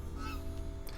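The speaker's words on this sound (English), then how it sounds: "The guard geese are actually doing their job." Cartoon guard geese honk at a castle, a short burst of nasal honks over faint background sound, with no one speaking.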